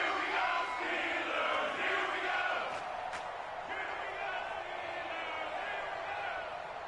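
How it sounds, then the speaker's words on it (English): Crowd cheering and roaring in an American football video game ahead of a big third down, a steady loud wash of crowd noise with a commentator talking over it. "The crowd getting into it as we come up on a big 3rd down."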